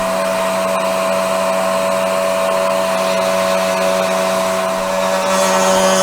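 A Sainsmart CNC 4040 Pro router cuts grooves with no dust shoe fitted. Its spindle holds a loud, steady whine with a constant hum, close and unbroken, and no one speaks.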